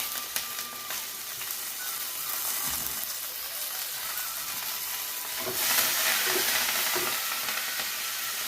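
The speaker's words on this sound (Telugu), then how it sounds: "ఉల్లిపాయ, పచ్చిమిరపకాయలు కూడా వేసుకున్నాను. ఇదిగోండి చక్కగా అలా వేగింది." Onion, green chillies and curry leaves fry in a hot pan with a steady, close sizzle and occasional stirring scrapes, the hiss swelling louder about halfway through and staying strong to the end.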